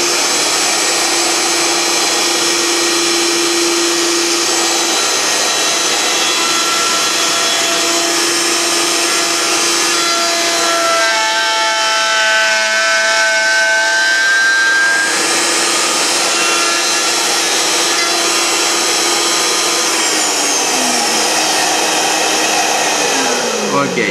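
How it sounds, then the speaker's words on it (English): Router cutting flutes, with a continuous loud high-pitched motor whine throughout, dipping briefly midway as the router is lifted and moved to the next flute, then resuming. "Lift the router, come inside to my next flute over here,"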